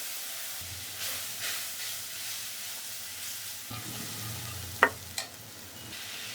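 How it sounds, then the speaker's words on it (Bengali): Spice paste of coriander powder, ginger paste and cashew paste with a little water frying in a pan, a soft sizzle broken by stirring scrapes and two sharp metallic taps of the spoon near the end. "একটু জল দিয়ে মশলাটা কষিয়ে"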